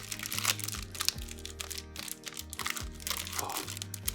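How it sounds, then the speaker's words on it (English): A dry shortbread biscuit is crunched while eating, a few close crisp bites and crumbly crackles over a quiet background with a low hum. "I'm eating this biscuit first"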